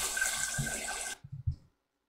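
Tap water pours steadily into a canning pot for about a second, then cuts off, followed by a few dull clunks from the pot being handled in a home kitchen.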